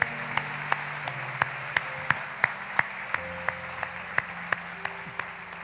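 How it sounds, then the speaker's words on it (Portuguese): Steady applause from a crowd fills the whole stretch, with a few louder claps standing out at an even beat. "Vamos aplaudir Jesus, crendo que a oração é eficaz"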